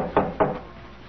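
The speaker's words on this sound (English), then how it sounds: "there was a knock on the door." Two sharp knocks on a wooden door in a 1977 CBS Radio Mystery Theater drama, close and distinct, about a quarter second apart, followed by quiet.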